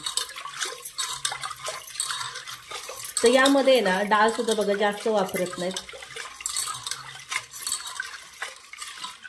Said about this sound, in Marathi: चांगली अशी स्वच्छ धुवून घ्यायची.